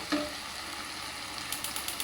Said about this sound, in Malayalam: ഇനി നമുക്ക് ചിക്കൻ വറുത്ത അതിലിടുന്നുണ്ട് കേട്ടോ